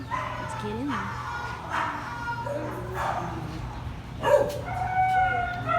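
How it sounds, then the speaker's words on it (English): Several dogs bark and yip repeatedly, some near and some farther off, while a person speaks briefly over the noise. "You can hear all the dogs barking"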